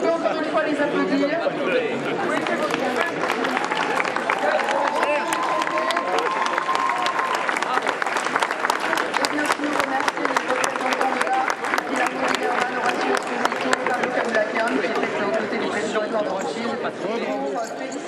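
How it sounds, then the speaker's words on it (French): A crowd at a horse race applauds the 2016 Prix Maurice de Gheest winners, Signs of Blessing's team, with steady sustained clapping and chatter that runs throughout, loud and dense, with a voice speaking over it. "On peut encore une fois les applaudir."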